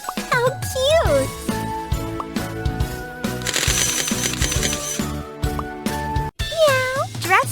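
Cartoon cat meows in a pet hair salon dress-up video game, several high, sliding mews over bright, jingly game music and chimes, loud and close, with an upbeat child-like voice chiming in.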